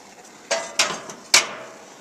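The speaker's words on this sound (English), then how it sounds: "So you're going to put your frying pan right in, upside down, lay it right in there." A cast iron frying pan is set upside down on the grates of a gas grill, making a few sharp metallic clunks and knocks in quick succession, close and fairly loud.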